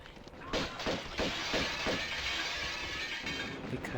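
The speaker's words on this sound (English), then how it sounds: "We are going to break this glass." Glass shatters in the video game Tomb Raider 2 at Barkhang Monastery, a bright, crashing break followed by a run of tinkling shards and clinks that fade over a few seconds.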